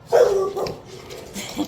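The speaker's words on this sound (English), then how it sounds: "That was my dog barking." A nearby dog lets out one sharp bark followed by softer yips and whimpers, heard indoors in a home kitchen.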